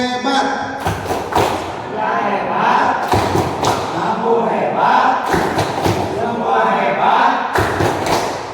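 An audience of parents and teachers at a school gathering performs the rhythmic 'tepuk hebat' group clap, loud, close thuds in repeated bursts with shouted voices joining in and a leader's voice over the crowd.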